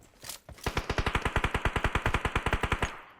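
Rapid automatic gunfire from a PUBG Mobile match, a steady burst of roughly two dozen evenly spaced shots, loud and close, with no talk over it.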